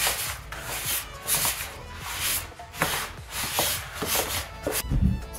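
Hands rubbing margarine into flour for mandazi dough, a close, repeated scratchy rubbing in uneven bursts roughly every half second, alone with no talk.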